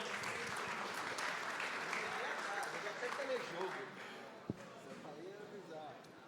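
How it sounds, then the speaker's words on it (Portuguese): Audience applause greets the man who created the Atari as he is called up at a gaming-market talk, a steady broad patter of clapping that fades slightly near the end, with voices speaking over it. "Salva de palmas."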